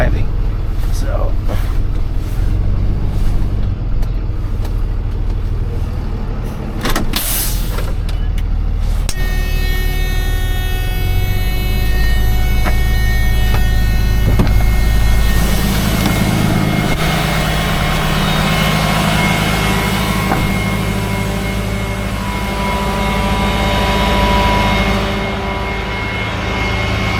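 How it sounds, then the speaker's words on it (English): A car engine runs and idles steadily at an IAA vehicle auction yard, giving a continuous low rumble that stays loud throughout, with some voices mixed in. "Luckily though, this car is running and driving,"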